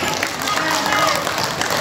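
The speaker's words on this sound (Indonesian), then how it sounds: "beri tepuk tangan" An audience at a family-education training event claps together, a dense wash of applause filling the whole moment.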